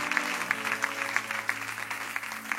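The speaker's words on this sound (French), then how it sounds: "Acclamons la parole de Dieu." A church congregation applauds at a moderate distance, with scattered claps forming a steady, fairly faint ripple over a low room hum.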